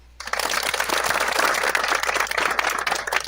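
A crowd at an Ambazonia Independence Day celebration breaks into sustained applause, dense close-up clapping that starts abruptly and holds steady to the end.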